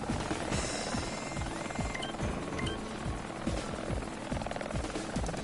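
Helicopter choppers in the video game LittleBigPlanet 3 thump with rapid, steady rotor beats, loud and continuous through dense game noise.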